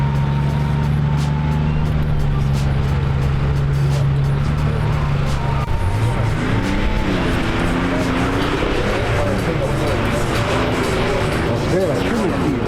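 A race car on a hillclimb run at Sadala, its engine droning steadily at first, then revving and shifting through rising and falling pitches, heard from a distance under a commentator's voice.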